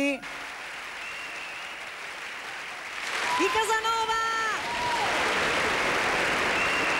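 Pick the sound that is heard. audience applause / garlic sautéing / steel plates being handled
audience applause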